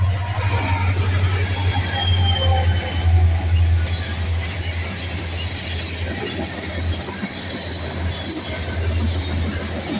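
A BNSF freight train with rare locomotives rolls steadily past, a continuous low rumble with wheel noise and faint squeal, loud and close, no clear voices.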